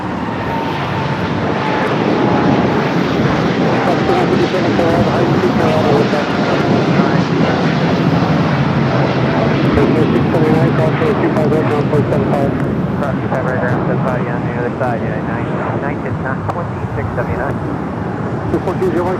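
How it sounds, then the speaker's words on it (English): A United Boeing Dreamliner jet rolls down runway 25 right on takeoff with a sustained loud engine roar and a faint whine riding on top, steady from start to finish. "that United Dreamliner now rocking and rolling down to 25 right"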